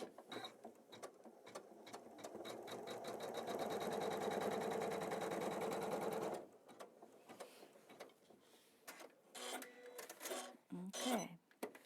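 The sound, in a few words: embroidery machine stitching a placement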